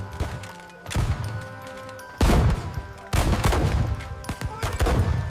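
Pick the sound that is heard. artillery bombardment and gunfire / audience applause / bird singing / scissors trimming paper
artillery bombardment and gunfire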